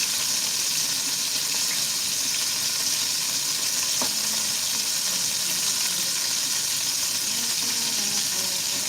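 Vegetable oil sizzles in a cast iron skillet, a steady bright crackling hiss that stays even throughout, with one faint knock partway through.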